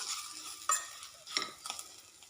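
Chilli powder being stirred into a bitter gourd curry in a pan: a few distinct scraping strokes of a spoon over a soft, steady sizzle, close and fairly quiet, with no talking.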